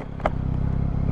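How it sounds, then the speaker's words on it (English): A Yamaha MT-09 SP motorcycle engine idles close by with a loud, throbbing, pulsing rumble. There is a short rev blip near the start of this brief moment. "I forgot to rev it up and let you hear it."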